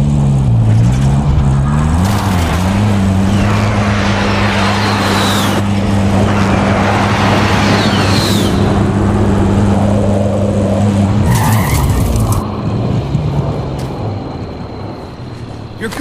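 A vehicle engine drives in Call of Duty Warzone, a loud, steady droning hum that rises and falls in pitch as it accelerates, running continuously with game noise and faint voices layered over it before easing off near the end.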